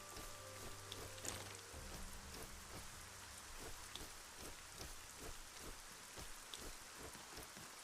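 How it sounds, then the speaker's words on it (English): Rain falls steadily in the fantasy video game Arcania Gothic 4, a faint, even hiss with scattered soft droplet taps and an occasional low rumble throughout. "Those are some big ass raindrops."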